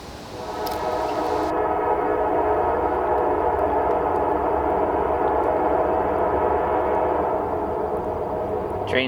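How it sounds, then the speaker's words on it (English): Train rumbling past close by beside an outdoor Dakota fire hole rocket stove, a loud steady roar with rattling that swells in and holds throughout, with a brief higher whistle-like tone near the start; no talk. "Train's here."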